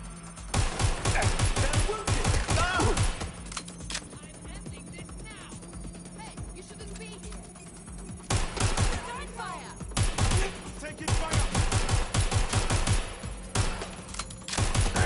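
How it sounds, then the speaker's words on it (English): Bursts of gunfire in the video game Watch Dogs Legion, with rapid repeated shots in loud clusters broken by short pauses, over a steady game background hum. "Shots fired! Shots fired!"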